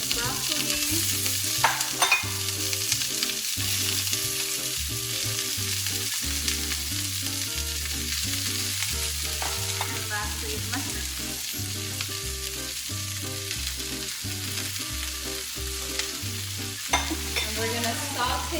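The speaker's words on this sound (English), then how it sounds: "we're gonna saute this for about 5 minutes" Broccoli and mixed vegetables sauté in a hot pan with a continuous crackling sizzle and occasional stirring scrapes, steady and close, over a low rhythmic background hum without speech.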